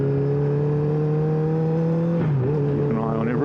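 A 2009 Honda CBR1000RR Fireblade engine hums steadily at a constant pitch while being ridden, then dips and climbs again as the rider shifts and revs, loud and close with wind noise underneath.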